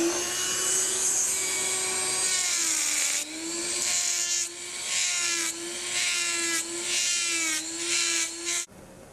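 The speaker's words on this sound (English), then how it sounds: "So we'll just take our burr and cut some of that base plate off." A dental burr grinds away at an acrylic denture base plate with a continuous high whine, its pitch dipping in repeated short passes as it cuts, then stopping abruptly at the end.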